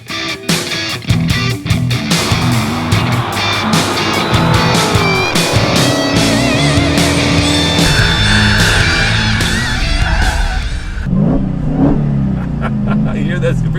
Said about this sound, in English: You hear that supercharger whine?